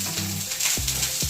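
Sardines frying in hot oil in a pan for a home-cooked lunch, a steady close-up sizzle and crackle with a few soft stirring clinks, no voices.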